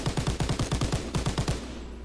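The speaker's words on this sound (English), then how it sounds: "A little suppressive fire." A Grease Gun fires a rapid burst of about thirteen evenly spaced shots in Call of Duty WWII, loud and close, followed by a short fading tail.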